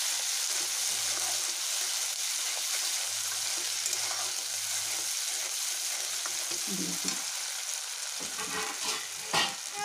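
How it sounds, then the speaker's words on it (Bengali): Chicken frying in a pan with cumin, chili and coriander powder for chicken and potato curry, a loud, steady sizzle throughout with occasional stirring scrapes near the end. "আর জিরের গুঁড়ো, লঙ্কার গুঁড়ো, ধনের গুঁড়ো চিকেন দিয়ে ভাজতে ভাজতে দেবো"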